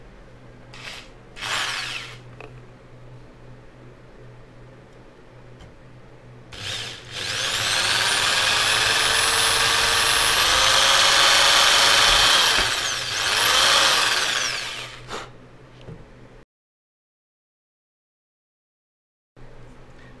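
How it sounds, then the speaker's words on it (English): A small power drill whirs up and runs steadily for several seconds, drilling small pilot holes, winding down near the end, with brief tool clatter before and a short silence after. "Let's drill the holes."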